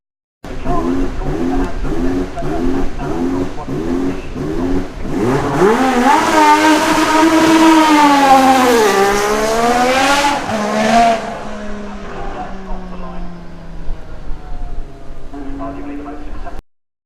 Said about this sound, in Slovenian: pri McLarenu seveda ne moremo mimo tistega znanega V6 od Honde